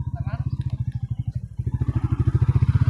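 A motorcycle rides up onto the road atop the Jedarpalayam barrage, its engine chugging steadily up close with a pulsing rhythm that strengthens toward the end, while people talk over it.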